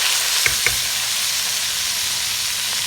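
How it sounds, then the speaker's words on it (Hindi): Onions sizzle in hot ghee, producing a steady, close frying hiss with a couple of faint clinks near the start. "अब गरम घी है, इसके अंदर हम प्याज ऐड कर देंगे"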